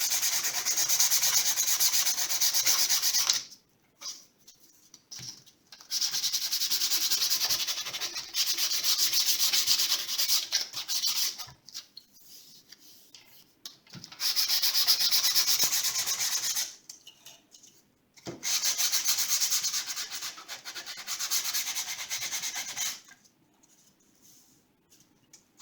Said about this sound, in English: Then you're gonna sand the outer edge.